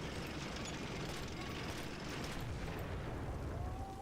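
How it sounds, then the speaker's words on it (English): A dense, rumbling roar of an explosion in Sniper Elite fills the clip, a sustained low blast with crackling debris and no clear speech. "And that's why I turned down the explosions, Dim."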